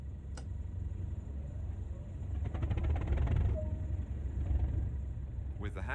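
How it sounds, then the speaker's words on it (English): A diesel locomotive starting up on the Tees Valley Line in Train Sim World 2020, a low rumbling engine rising in the middle with a ticking clatter over a steady hum, fairly quiet and without talk. "Go ahead and start the locomotive."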